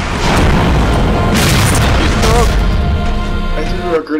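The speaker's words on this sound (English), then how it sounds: "I threw a grenade in the air." A grenade blows up in Halo 4 gameplay. Booming blasts and bursts of combat noise are loud and close, with a voice speaking over the action.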